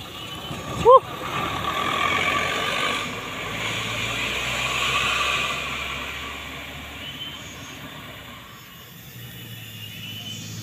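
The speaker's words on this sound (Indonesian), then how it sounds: "Ada truk kantor bosku dari arah atas." A truck on a steep mountain road, its engine droning and swelling past at moderate distance with a short sharp squeal near the start, then fading off.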